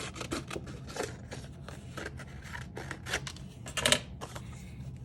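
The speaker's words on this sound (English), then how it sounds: "So I'm going to snip it off." Scissors snip paper for a journal cover, a quick series of crisp, close cuts with irregular spacing and a louder pair near the end, with no speech.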